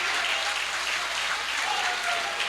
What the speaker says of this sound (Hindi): भरपूर तालियां जी, भरपूर तालियां